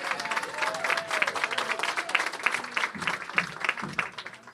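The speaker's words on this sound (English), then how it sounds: "Let's give him a round of applause for that." A crowd applauds at a mayoral announcement on affordable homes, clapping briskly and fairly close, with a voice and some cheering mixed in over the steady patter.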